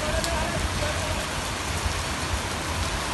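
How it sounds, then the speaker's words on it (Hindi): Steady rain falls outside a house in Gurgaon, a dense, even hiss with occasional heavier drips, constant and fairly loud with no talking. "ये देखो मस्त बारिश हो रही है।"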